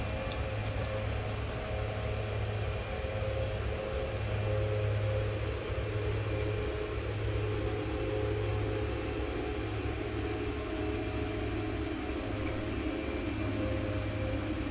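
A DHC-6 Twin Otter from X-Plane 11 flies out of Rothera, Antarctica, its twin turboprops giving a steady, loud, unbroken cockpit drone throughout.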